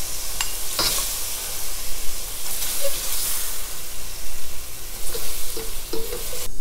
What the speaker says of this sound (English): So all I do is pretty much just caramelize this, lower my heat.